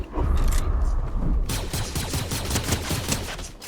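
Dense, rapid friendly gunfire from a video game: loud overlapping bursts and volleys rattle on without pause, heavier in the opening second and then settling into a steady, crackling barrage.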